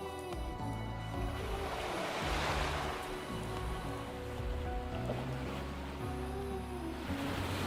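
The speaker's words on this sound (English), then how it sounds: "I could seemingly hear the sound of waves crashing against a rocky shore." Waves crash against a rocky shore in the video game Snowbreak: Containment Zone, a steady close roar of surf mixed with a bed of ambient game music.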